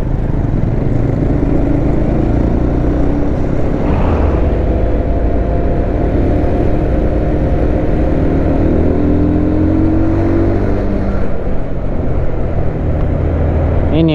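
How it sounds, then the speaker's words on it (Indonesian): Heavy soil-hauling trucks rumble past on the busy Berastagi road, a loud, continuous low engine drone with slow swells as vehicles approach and recede. "Ini yang paling banyak truk ini ngisi tanah, truk tanah yang rame."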